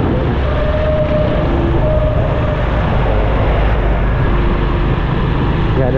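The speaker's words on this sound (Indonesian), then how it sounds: "Ya mudah-mudahan suara knalpot mobil itu tidak mengganggu ya" Car exhaust rumbles on a city street near a food spot, a loud, steady broadband roar of passing traffic that fills the whole stretch with no voices over it.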